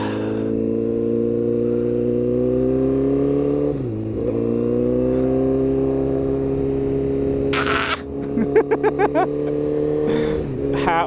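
A custom 2008 Honda CBR1000RR street fighter runs through a shakedown, a loud steady engine drone that dips briefly and then revs in quick bursts near the end.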